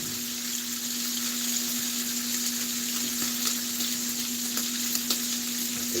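Shrimp and grits fry in a pan with a steady, close hiss and crackle that holds evenly over a low electrical hum, with no talking.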